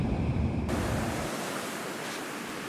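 Sea waves wash onto the shore on a rainy November day, a steady, loud, broadband roar of surf that fills the whole stretch with no voices.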